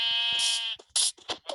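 A blocky sheep in Minecraft bleats once in a long, wavering cry, followed by a few short clipped game sounds.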